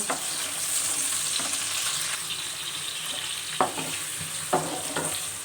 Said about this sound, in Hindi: ऑयल जो है गर्म हो चुका है। इसमें हम अनियन डाल देते हैं यानी प्याज।